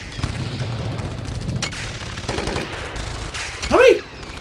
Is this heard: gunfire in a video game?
yes